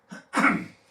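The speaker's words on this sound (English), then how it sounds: "Excuse my cough." A single close cough, a short rasping burst preceded by a brief throaty catch, loud against otherwise quiet surroundings.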